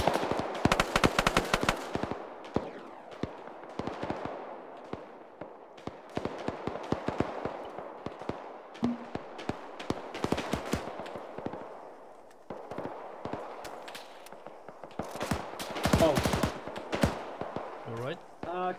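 Automatic gunfire in Arma 3, set in the 1989 Afghan War, rattles from behind in dense, loud bursts, with a heavy cluster at the start and another near the end, plus scattered single shots between.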